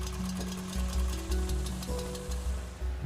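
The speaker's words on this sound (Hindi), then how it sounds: "अब 70 फुट लंबे जमीन पर बिछाए गुब्बारे में पंखे की मदद से हवा भरनी" A powered fan blows air into a 70-foot hot air balloon laid out on the ground: a steady mechanical hum with a pulsing low drone and a constant airy rush, continuous and moderately loud with no talking.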